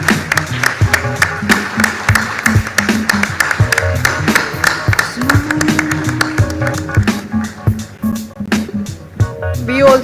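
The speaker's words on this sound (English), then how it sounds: "A big round of applause, ladies and gentlemen." An audience at a national convention of company secretaries in Mumbai claps in a dense, lively round of applause with sharp individual claps, which thins out toward the end.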